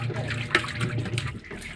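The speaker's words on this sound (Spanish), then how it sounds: "El agua cayendo y la lavadera." Water falls steadily at a beach beside a washing area, making a continuous close splash and wash with a low hum underneath and no voices.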